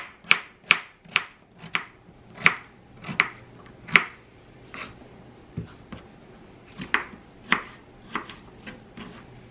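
A knife chops sweet potatoes on a cutting board, a run of sharp, close knocks in an uneven rhythm, some loud and some softer, with no talking.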